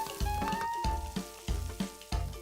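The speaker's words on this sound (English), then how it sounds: "Now add the garlic and stir until fragrant." Garlic sautéing in a pan after onions and mushrooms, a sizzle broken by a series of regular scraping stirs, about five strokes in quick rhythm.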